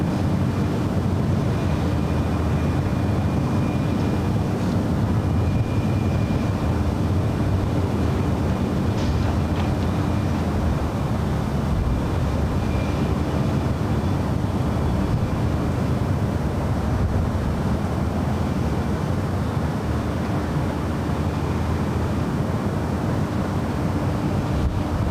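A rainstorm at LAX airport produces a dense, steady hiss of heavy rain with a low rumble of wind and distant aircraft engines underneath, constant and unbroken throughout.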